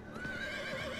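A horse whinnies in Diablo IV while riding through a small village, a single drawn-out neigh over steady background ambience with soft hoofbeat-like thuds underneath.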